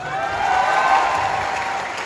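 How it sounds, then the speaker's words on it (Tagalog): A live audience at a gathering claps steadily for the hosts, a fairly soft, even round of applause lasting a couple of seconds with a faint crowd murmur beneath it. "Alam nyo, mahina yung palakpak nyo"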